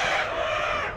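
Poultry farm chickens, some with bad or missing eyes, fill the shed with a loud, steady wash of clucking and crowing, many birds calling at once up close.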